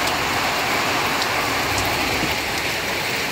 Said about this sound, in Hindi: बहुत तकड़ी वाली बारिश आ रही दोस्तों